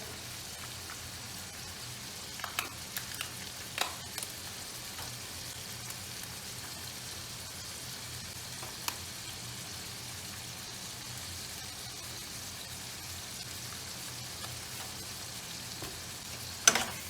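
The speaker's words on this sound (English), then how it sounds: "Now we're going to make sure it gets all throughout the meat, so we want to flip the meat a few times." Ground beef frying in a pan gives a faint, steady low sizzle with a few soft scrapes and clicks of stirring, close but quiet, and no one talking.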